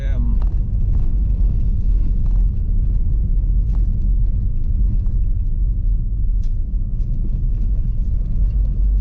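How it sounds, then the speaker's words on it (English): A 4x4 driving slowly over a rough track toward a country cottage, a constant loud low engine rumble with road noise and occasional knocks from the suspension, close and continuous with no talk. "just because I'm driving a 4x4, shit, doesn't mean I've got to"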